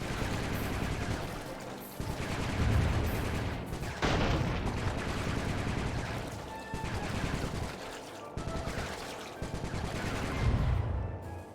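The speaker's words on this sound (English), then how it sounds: "Nice shooting, Bentley." Rapid bursts of gunfire from Bentley in a Sly Cooper game, loud repeated volleys in several waves separated by short gaps, dense with game sound effects and music.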